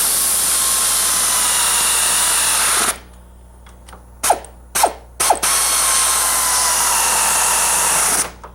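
Compressed air blown over drive train bolts gives a loud, steady hiss in two long bursts, separated by a quieter gap with a few sharp clicks and knocks.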